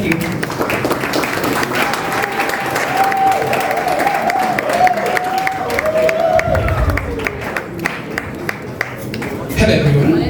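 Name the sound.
audience applause for a speaker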